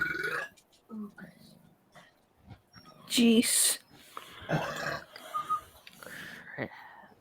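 A person lets out a loud, drawn-out burp amid quiet conversation, with a few shorter grunting sounds before and after.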